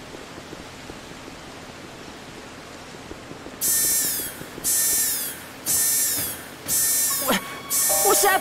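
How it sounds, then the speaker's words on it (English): Repeating alarm in the Phantasy Star Online 2 video game, five loud pulsing blasts at a steady rhythm after a few seconds of quiet background noise. "that alarm reminds me of Warframe"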